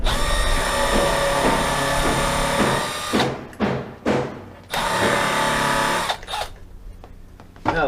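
Milwaukee Surge hydraulic impact driver fitted with a Milwaukee bit, driving screws into decking boards while building window boxes; loud sustained whirring bursts, then several short separate runs and a final burst, close by with no talk.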